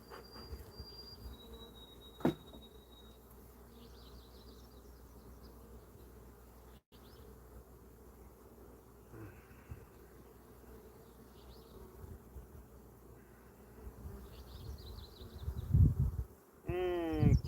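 Honey bees buzz around an open hive, a steady low droning hum close by, with occasional clicks, handling noises and brief faint sounds over the continuous buzz.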